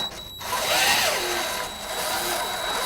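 A power drill bores through the sheet metal of a 2015 Jeep JKU front fender, a loud steady whine that rises and falls in pitch as the bit pulls through the back panel.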